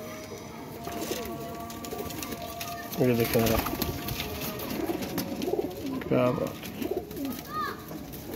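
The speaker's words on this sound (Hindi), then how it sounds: "माशाल्लाह दोस्तों कबूतर देखें, टैडी कबूतर है, जोड़ों में भी काम कर सकता है।" Teddy pigeons coo in soft, rolling bursts close by, several calls repeating across the stretch while someone talks over them.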